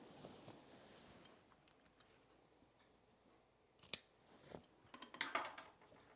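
Scissors snip through blouse fabric in a quiet indoor sewing setting, a few faint scattered cuts early on, then a sharper clipped snip followed by a quick cluster of crisp cuts near the end.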